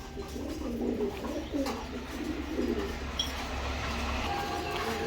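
Several pigeons coo close by in a repeated, low, rolling rhythm over a steady background rumble, with no talking.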